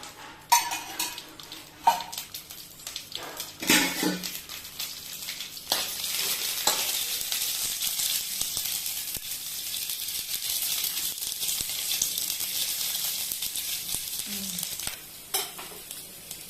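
Five green chillies frying in a spoonful of oil in a kadai, hissing and sizzling steadily at close range with occasional spoon scrapes and clinks against the pan.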